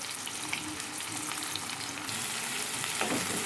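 Ginger garlic paste and turmeric sizzle and fry in a pan while being stirred, with a steady close crackle and occasional scraping of a spoon.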